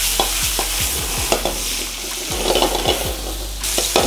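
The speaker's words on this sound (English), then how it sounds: "And now we're gonna go ahead and throw in our ham. But be very careful, this likes to bite back." Truffle ham fries in hot oil seasoned with salt and pepper, a loud, close sizzle with repeated stirring scrapes and light spatters against the pan, no voices.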